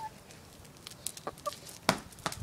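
A chicken clucks in a few short, scattered bursts, close and fairly faint, with sparse quiet gaps between the calls.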